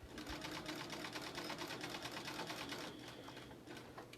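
A sewing machine back stitches at the end of a seam on a fabric mask, producing a continuous, fast rattling whir of needle strokes that shifts slightly in pitch near the end.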